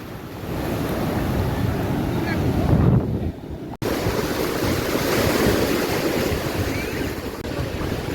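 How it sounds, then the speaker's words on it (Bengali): Big sea waves at Puri beach roar continuously with heavy surf and wind buffeting the microphone, a louder surge building before a brief dip, then the crashing resumes. "আরো একটা ঢেউ আসছে, অনেক বড় ঢেউ।"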